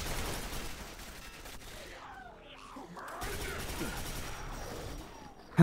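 Turret gunfire in the Quake 4 video game: bursts of rapid shots from two turrets, loud and dense under game noise, with a brief quieter gap midway and a sharp blast at the end, mixed with speech.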